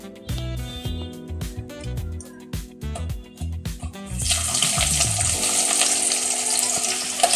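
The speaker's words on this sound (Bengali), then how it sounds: "পেঁয়াজ আর টমেটো আমি খুব ভালো করে ভাজবো।" Chopped onions and medium tomatoes go into hot oil: a run of close utensil clatter and knocks gives way to a loud, steady frying hiss, with no talk.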